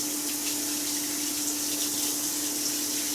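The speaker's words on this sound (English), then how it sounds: "Let me wash my hands real quick." A kitchen tap runs steadily while hands are washed under it, a continuous loud splashing hiss with no breaks and no talk.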